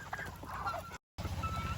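Geese honking at feeding time on a farm, a close, dense clamor of overlapping nasal honks that cuts out briefly and then resumes just as loud.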